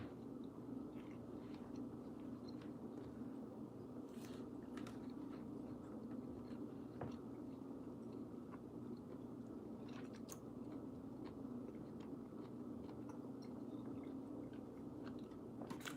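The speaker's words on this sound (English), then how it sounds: "Sorry I'm chewing" Someone chews food close to the microphone, soft wet mouth sounds and occasional bites repeating faintly over a steady low room hum.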